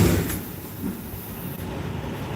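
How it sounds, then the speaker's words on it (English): A low, steady road rumble with faint rattling runs throughout, like a trailer shaking and clattering along behind a moving vehicle. "I guess that's my trailer making that noise."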